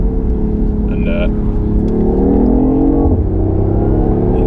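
A 2016 BMW i8 hybrid sports car's 1.5-litre engine drones and builds as it accelerates, with a low rumbling tone rising in pitch, heard from inside the cabin alongside faint talk.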